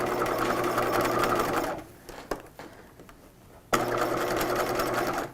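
Sewing machine stitching fabric for a 1950s shelf-bust dress, a steady close whir that stops briefly mid-run, gives a few light clicks, then resumes, with no talking.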